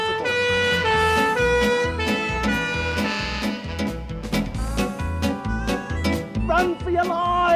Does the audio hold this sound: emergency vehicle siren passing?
yes